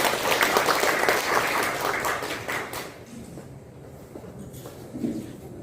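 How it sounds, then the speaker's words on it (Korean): Residents at a public redevelopment briefing in Gwangju give loud, dense applause for about three seconds, which then fades quickly into a quiet room with faint rustling. "큰 박수 부탁드리겠습니다."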